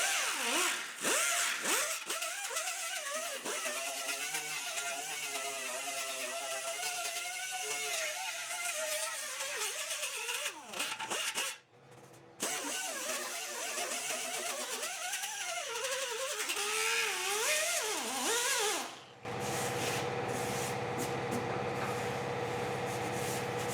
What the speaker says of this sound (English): take a sanding disc and just knock down or knock off the black paint that's on the